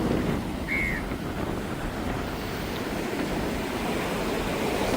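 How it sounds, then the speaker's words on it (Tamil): Large sea waves break on a fishing coast in strong wind, a steady broadband roar of surf and gusting air that stays loud and continuous throughout, with no voices. "ஒவ்வொரு அலையும் பெரிய சுனாமி வரைக்கும் வந்துட்டு இருக்குது"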